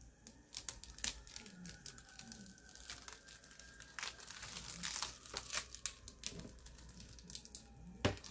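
Plastic film peeled off a new store-bought item, giving close, faint crinkling and tearing crackles in irregular bursts.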